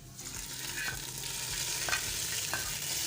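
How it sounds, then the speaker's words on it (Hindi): Steady sizzling and crackling of hot oil as an onion tempering is poured into chicken nihari, with faint stirring clinks, continuous and close, with no talking. "उसमें शामिल कर देंगे हम ये प्याज का तड़का।"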